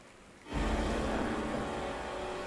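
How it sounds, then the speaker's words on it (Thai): Rain begins to fall in a Star Wars Death Troopers video game, a broad hiss that swells in suddenly and then holds as a dense, steady wash of noise. "ฝนก็เริ่มตกแล้วเลย"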